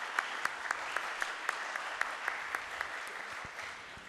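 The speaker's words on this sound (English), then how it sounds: "Let's give Jan a big round of applause for being here" Audience at a candidate forum in Anacortes clapping for a candidate, a fairly faint, even patter of many hands with a few sharper nearby claps standing out in a loose rhythm.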